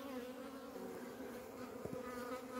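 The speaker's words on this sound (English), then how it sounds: "The maintenance bees are going round, sealing up all the gaps created by me by taking it apart last week with propolis." Honeybees at work on a wooden beehive, sealing gaps with propolis, make a steady close buzzing drone with a brief louder pass midway, and no voices are heard.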